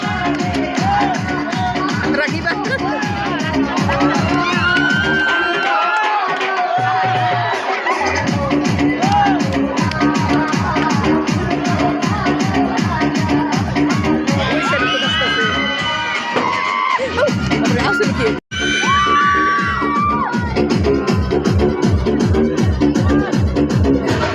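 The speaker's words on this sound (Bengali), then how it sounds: "আমাদের বাচ্চাগুলা এখন এই নৌকাতে বসেছে আর ওরা কিন্তু ভয়ে অনেক চিৎকার করছিল তো আপনাদেরকে একটু সাউন্ড দিয়ে দেখাচ্ছি" Children seated on an evening boat ride shriek and shout together continuously, a dense, loud wall of high-pitched screaming and crowd noise with brief dips, lasting over twenty seconds.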